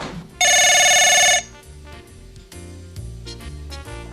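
A telephone bell rings loudly in one burst of about a second, followed by quieter background sounds.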